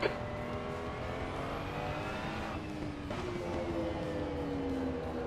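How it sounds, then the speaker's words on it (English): A Porsche race car engine in Assetto Corsa Competizione drones loud and close, holding a steady high pitch with a brief dip and rising again, without talk. "Porsche sounds better and is more fun."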